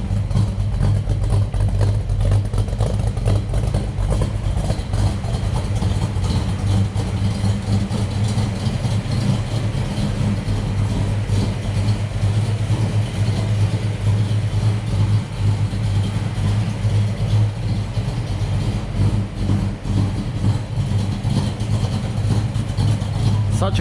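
A red AMC AMX idles while warming up before a test drive, its engine holding a steady low rumble close by for the full length, with no voices over it.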